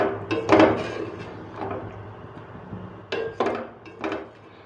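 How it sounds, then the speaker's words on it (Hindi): A spoon knocks and scrapes against a pot while yogurt is stirred into a chicken and chickpea curry, giving a few sharp clinks in two short bursts separated by quieter scraping. "दही ऐड करने के बाद इसको अच्छी तरह से मिक्स कर लेते हैं"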